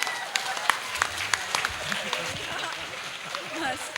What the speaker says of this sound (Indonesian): Tepuk tangan untuk Mas Brio Sambada.